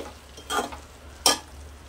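Brinjal and tomato curry frying in a pan with chili powder stirred in: two short, bright bursts of sizzling as the spoon moves, with a quiet background between them.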